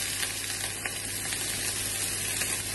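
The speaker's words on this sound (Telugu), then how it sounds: "ఇప్పుడు ఉల్లిపాయను పచ్చిమిర్చి వేసుకుందాము." Onion and green chili fry in oil in a pan, giving a loud, steady, close sizzle with light crackles throughout and no talking.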